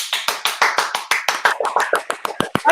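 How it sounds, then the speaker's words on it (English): Fast hand clapping, the Kojic clap, as a rapid run of about twenty sharp, close claps in a steady rhythm, loud and alone without speech. "you just clap real fast"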